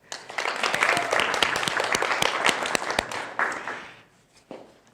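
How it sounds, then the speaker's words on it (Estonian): A lecture audience claps in sustained, dense applause for the Estonian education system, crisp sharp claps at close range, thinning out and fading to a few scattered claps by the end. "ma paluksin teha suure aplausi Eesti haridussüsteemile"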